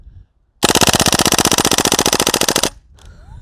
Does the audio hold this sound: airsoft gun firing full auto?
yes